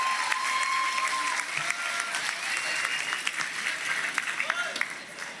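Sustained crowd applause at a public housing handover ceremony in Maceió with President Lula, steady dense clapping from a large audience with a few voices and whistles mixed in throughout.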